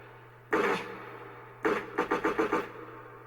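A gunshot sound effect from a Roland GO KEYS 3 keyboard fires one sharp, loud bang, then after a short pause a rapid burst of several quick shots.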